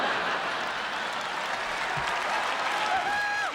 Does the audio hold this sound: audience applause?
yes